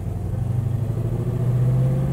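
A 1970 Dodge Charger with a HEMI V8 idles steadily nearby, a deep, loud rumble that holds constant and swells slightly toward the end, with no talking.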